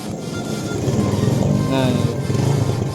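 A Honda Jupiter Z motorcycle engine idles and gets a light rev, a steady close running drone that rises a little toward the end, with a person talking over it.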